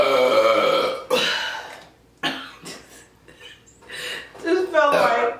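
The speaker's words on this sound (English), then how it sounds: "Her burps are just so deep and intense." A woman lets out deep, intense burps during a Chinese food eating session, several loud throaty bursts separated by brief pauses, close to the microphone.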